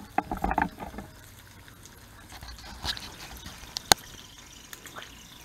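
Bacon frying in a cast iron pan gives faint, scattered crackles and pops over a low sizzle, with a couple of sharper snaps standing out; no one talks.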